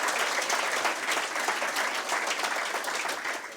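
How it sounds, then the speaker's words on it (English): A room full of people claps steadily for project collaborators, an even wash of applause at moderate distance that thins a little toward the end. "a round of applause for all the collaborators"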